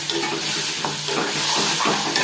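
Tomato and ginger paste fries in oil with a loud, steady sizzle close by, broken by soft scraping strokes of stirring, no voices.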